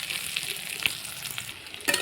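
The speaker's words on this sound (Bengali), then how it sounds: "আলুটা নাড়াচাড়া করে নেব।" Potatoes stirred and fried in a pan with onion, ginger and garlic make a close, crackling sizzle broken by scraping stirring strokes, with a louder burst of sizzle near the end.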